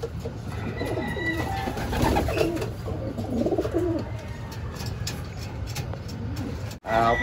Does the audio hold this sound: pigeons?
yes